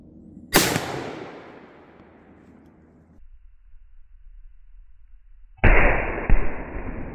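A 6.5 PRC rifle firing a Barnes 127-grain LRX bullet into a pork shoulder gives a loud, close blast that rings and decays over a couple of seconds, followed by a second sharp, loud report.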